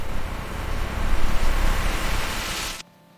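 Spin drying of a chip wafer in a fabrication tool: a loud, steady broadband whoosh that swells slightly, then cuts off abruptly near the end, leaving near silence.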